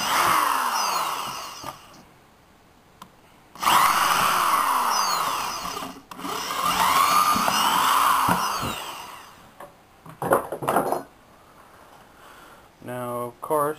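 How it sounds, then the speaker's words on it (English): A power drill whines in several bursts, drilling out a hole in a wall while installing a TV mount, spinning up and winding down, with quieter gaps and short mechanical noises between runs. "you drill out the hole"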